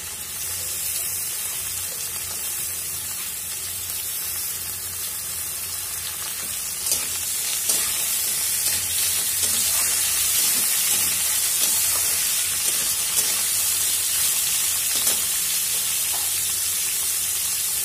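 Cauliflower stems and potato pieces fry in a pan for a Bengali vegetarian chorchori, a loud, continuous close-up sizzle that swells slightly partway through, with no speech.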